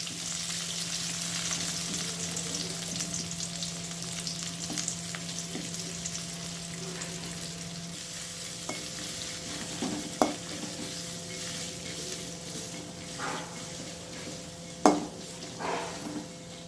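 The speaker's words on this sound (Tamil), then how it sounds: "ஆனியன் வந்து ஃப்ரை ஆகிட்டுருக்கு" Steady oil sizzle of large onions frying in a pan for mint rice, continuous and close, with occasional light clinks and stirring knocks toward the end.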